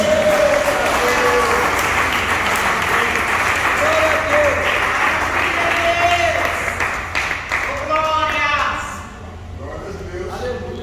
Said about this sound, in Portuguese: dá uma salva de palmas para Cristo